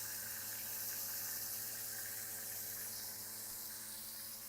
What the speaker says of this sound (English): with this particular pump, as it's really getting extremely low, it's still pumping water out